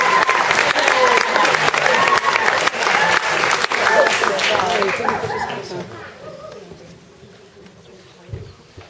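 Audience applause at a talent show for a comedian, a dense wash of clapping from a crowd that swells and then fades out over several seconds, with scattered voices.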